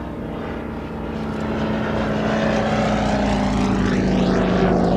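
A vintage 1932 Comper aircraft's propeller engine drones loudly at the Shuttleworth air show, its pitch holding steady and swelling slightly as it grows nearer.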